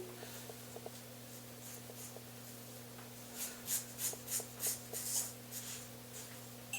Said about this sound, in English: I know y'all hear the hairs cutting again.